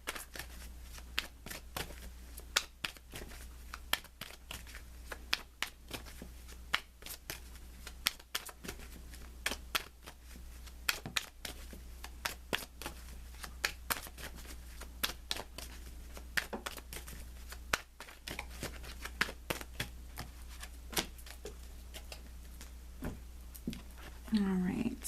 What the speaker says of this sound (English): I'm going to be pulling you a Romance Angel Oracle card